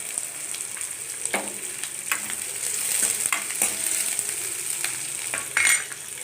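Green chilies sauté in hot oil in a pan for a sambar made without vegetables, producing a continuous close sizzle with occasional stirring clinks and scrapes.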